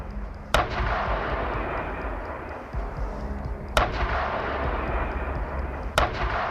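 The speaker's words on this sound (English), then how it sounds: "The tank circles the building and fires several shots accurately." Leopard tank cannon firing at a building, three sharp loud blasts spaced a few seconds apart over a steady rumble of engine noise.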